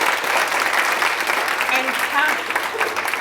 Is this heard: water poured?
no